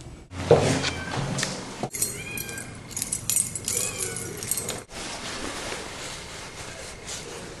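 A cat meows repeatedly from a distance, the calls faint and echoing amid household clatter and shuffling.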